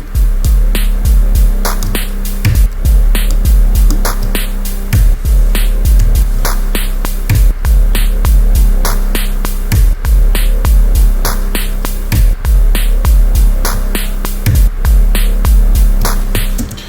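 Ambient electronic synthesizers washed in big reverb and delay pulse in a steady repeating rhythm over a low droning hum, loud and continuous throughout.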